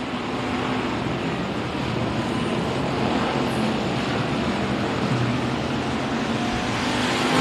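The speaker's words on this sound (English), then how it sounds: "both cars keep moving" Race cars lap the track at Kennedale Speedway with a continuous, dense engine roar. The loud, broad rumble holds steady throughout without pause.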